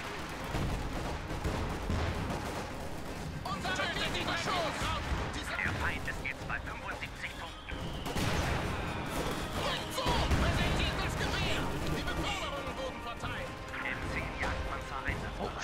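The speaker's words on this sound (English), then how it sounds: "Stuka barrage is an issue." A Stuka dive-bomber barrage in Company of Heroes 2, with a continuous din of explosions, crashes and gunfire. The impacts swell loud in bursts over a dense battle background, with a voice talking over it.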